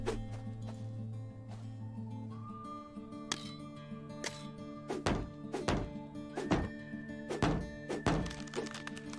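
Chopping down a tree in the video game Don't Die in the West, a series of sharp, hollow axe thunks at uneven intervals, getting more frequent toward the end, with ringing tones underneath.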